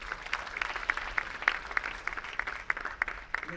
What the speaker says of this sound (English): Can we give a huge round of applause for ma'am once again?